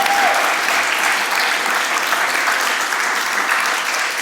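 An audience at a live talk on medical cannabis science claps steadily: dense, even applause holds at a strong level throughout, with no voices over it.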